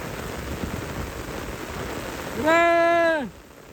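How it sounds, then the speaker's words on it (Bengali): A heavy downpour pours steadily over a wetland during windy weather, a dense, close hiss of rain throughout. A brief sustained tonal call rises over it near the end. "মুষলধারে বৃষ্টি, সেই বৃষ্টি হচ্ছে, ব্যাপক পরিমাণ বৃষ্টি।"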